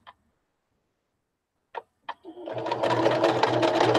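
A sewing machine stitches ribbon onto a fabric bag, starting after a few brief clicks and then running in a steady, loud mechanical whir.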